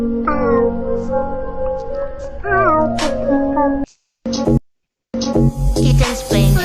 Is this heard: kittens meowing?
yes